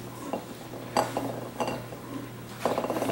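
Beignet dough scraped from a mixing bowl into a greased bowl, with a few soft clinks and knocks of utensil on bowl at irregular intervals over a steady low hum.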